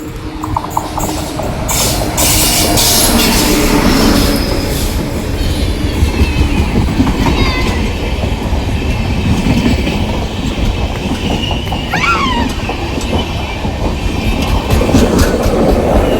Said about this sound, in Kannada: ಟ್ರೈನ್ ಬಂತು ಈಗ.